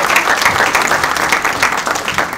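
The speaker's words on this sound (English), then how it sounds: "if you want to applaud," Audience applause at an event marking 75 years of US-Pakistan diplomatic relations, a dense, steady wash of clapping that fills the room at constant loudness throughout, with no voices over it.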